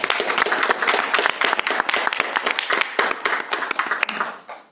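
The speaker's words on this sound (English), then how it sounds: "Let's give a round of applause to these amazing scouts." A crowd at a city council special meeting applauds scouts, a dense, steady round of clapping lasting several seconds before tapering off.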